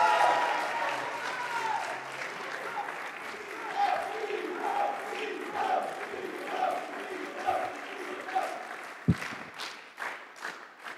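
Audience applause at a French left-wing political meeting in Lomme, steady clapping with crowd noise and some shouts and speech-like voices mixed in, sustained for the whole span with a sharp clap-like spike near the end.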